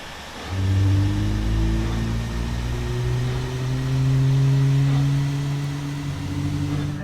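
An airliner engine spools up in Microsoft Flight Simulator, a low steady hum with rising whine tones that climb and hold. It is loud and continuous, with no talk over it.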